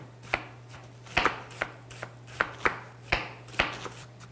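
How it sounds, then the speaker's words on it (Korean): A kitchen knife finely chopping ingredients on a cutting board during a rice-cake soup and fresh kimchi cooking class, with about a dozen crisp, close chops in an uneven rhythm and no talking. "그러면 그 다음에 이제 이렇게 잘게 이렇게 썰면 이 사이즈로 이렇게 썰리는 거죠"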